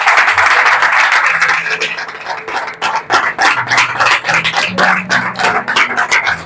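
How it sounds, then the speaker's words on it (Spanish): A church congregation claps for the Lord in quick, rhythmic unison, loud and close, with tonal voices or music sounding underneath the steady beat. "Dale un aplauso al Señor."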